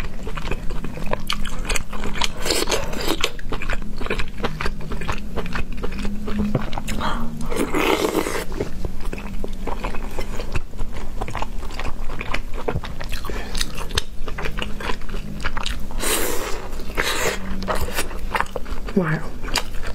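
Close mouth sounds of biting and chewing steamed buns, with soft wet smacking and occasional crunchy bites running steadily throughout, loud and near in a mukbang-style eating session.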